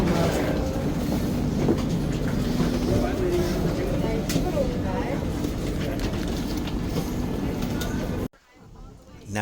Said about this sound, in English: Gotta get a shuttle train